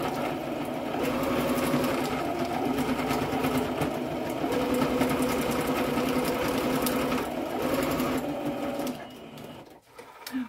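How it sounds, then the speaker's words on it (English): A sewing machine runs steadily at a fast stitching rhythm, close and continuous, then slows and stops near the end. "So this one as well I will do with sewing machine."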